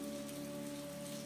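Rain falls steadily on a city street, a soft continuous hiss of drops on hard surfaces with a faint low tonal hum running beneath it, fairly quiet and uninterrupted throughout.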